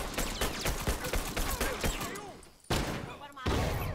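Rapid gunfire rattles through a round of The Last of Us multiplayer, with a fast stream of close shots, a brief lull, then more heavy bursts, voices mixed in.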